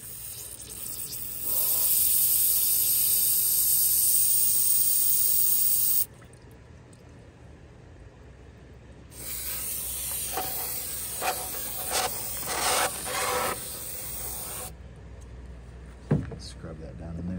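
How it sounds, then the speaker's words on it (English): A spray of pressurized water or steam hisses loudly against an old Detroit diesel 8V92TA water pump housing to strip dirt and grease, in bursts that start and stop, with someone talking over part of it. "Trying to get the old housing cleaned up pretty well here. Get it painted. Get the dirt and grease off it."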